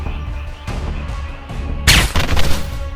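A sniper rifle shot cracks out in a dramatized audio story, one sharp loud burst with a brief rumbling tail, preceded by low tense background sound.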